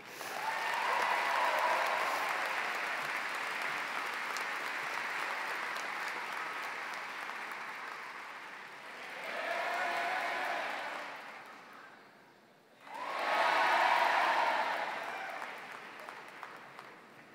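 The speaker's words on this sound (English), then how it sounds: "Please give a thunderous round of applause" Graduation crowd at a 2019 high school commencement breaking into applause: a long, full round of clapping that fades, then swells again in two more bursts of cheering and clapping.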